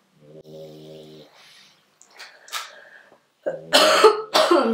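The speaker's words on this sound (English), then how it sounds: "Having a cough attack." A short coughing fit: a hoarse, throaty stretch, then several harsh, loud coughs in quick succession, close and alone.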